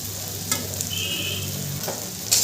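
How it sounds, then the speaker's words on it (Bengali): Cauliflower and potatoes fried with spices over a medium gas flame sizzle steadily in a pan, with a few light stirring scrapes rising above the constant hiss. "ফুলকপিটা দিয়েও ভালো করে কষিয়ে নেব"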